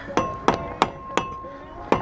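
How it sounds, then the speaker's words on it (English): Five sharp rubber-hammer taps on brake pads and rotors of a Mercury Grand Marquis or Ford Crown Victoria, spaced unevenly over two seconds, close and crisp, with faint background noise between strikes. "get yourself a rubber hammer and just tap them up a little bit so you can get them nice and tight"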